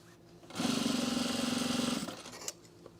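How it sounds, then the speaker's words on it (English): A sewing machine stitches down a sewn rug in one steady run of about a second and a half, with a buzzing motor hum and a rapid needle rhythm, then a click as it stops. "Now that I'm stitching it down"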